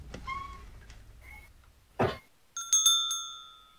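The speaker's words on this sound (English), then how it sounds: "loud ass ding-a-ling" A loud bell ding from the Nekopara Vol. 1 video game rings out in bright, ringing bursts near the end, after softer chimes and a sharp noisy hit.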